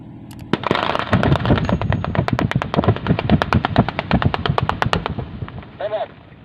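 Gunfire in a film about the mining world: a dense, loud volley of rapid shots, crackling bursts fired in quick succession for several seconds before tapering off.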